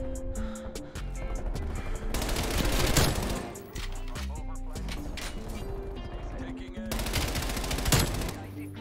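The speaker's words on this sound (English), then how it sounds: "This MP5 really has no recoil at all." Rapid MP5 submachine gun bursts fire in a Call of Duty Cold War match, several loud sustained volleys with short gaps, game effects and some talk mixed in.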